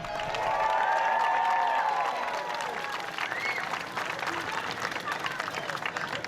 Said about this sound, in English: Once again, one more round of applause for the Nittany Lion.